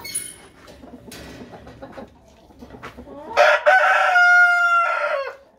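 Chickens and roosters of Araucana, wild partridge and blue partridge breeds: soft clucking and scratchy farmyard noise, then a loud, close rooster crow rings out in the final seconds.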